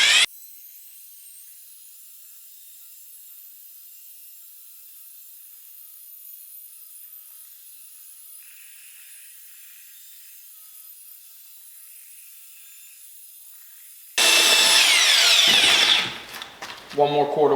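A power drill fitted with a paddle churns concrete mix for a countertop. The room stays near-silent for a long stretch before a loud, close whirring burst rises and cuts out after a couple of seconds.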